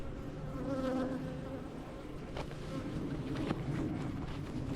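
Bees from an aggressive beehive buzz steadily and close by during a hive inspection, a dense continuous drone with individual insects passing near, no voices.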